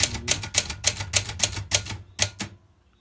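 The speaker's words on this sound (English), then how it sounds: "let's type a bit and let's see how it goes." Typing on an Olympia Carina 2 portable typewriter: about ten crisp, evenly spaced key strikes in a steady rhythm, close and loud, with the mechanism's thud under each snap, then a short pause and two final strokes before it falls quiet.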